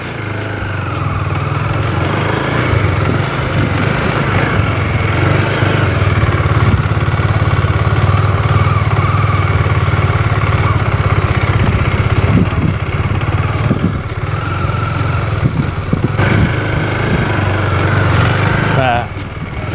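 A KTM Duke 250 motorcycle engine runs loud and close with a steady mid-pitched drone and buzzy rumble as the bike rides off, continuous for the whole stretch with mild surges.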